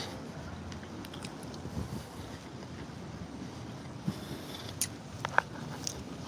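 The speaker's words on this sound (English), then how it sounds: "It's so windy." Strong wind blowing outdoors on a sandy shore, a constant low roaring buffeting with a few sharp gusts and knocks near the end.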